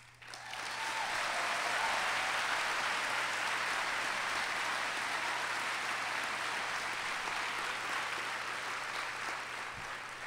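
A lecture-hall audience at the Duke Environment and Society Lecture applauds Al Gore. Sustained, even clapping from a large crowd swells in within the first second and carries on at a steady, somewhat distant level.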